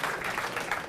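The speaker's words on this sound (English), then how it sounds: "Big clap for them." Brief burst of audience applause at a StarCraft 2 live tournament final, a dense patter of clapping from a crowd, fairly faint and lasting about a second.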